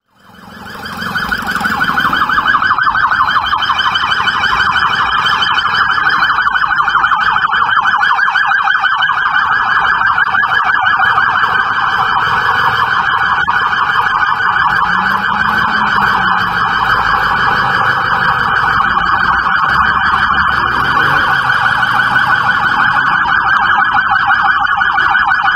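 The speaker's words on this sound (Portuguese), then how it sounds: "Acompanhe agora o momento da chegada da viatura da Polícia Judiciária Civil aqui na Delegacia" A Civil Judiciary Police patrol car's siren wails loud and continuous as it arrives at a municipal police station in Guarantã do Norte, a steady nearby tone holding for the whole stretch with faint traffic underneath.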